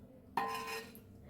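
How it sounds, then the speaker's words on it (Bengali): A metal lid comes off a pot of steaming khaja pitha with a single sharp clank, then a short ringing scrape and a soft hiss of steam, close by and otherwise quiet. "এখন আমি ঢাকনাটা উঠিয়ে দিব"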